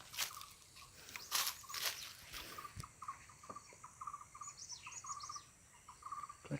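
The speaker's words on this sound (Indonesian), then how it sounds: "Ini kak burung gelatik di Sumatera Utara 3 ras." Java sparrows (gelatik) from North Sumatra, trapped for bird contests, give quiet repeated chirps and short high twittering notes against faint outdoor background noise, with a few sharp knocks early on.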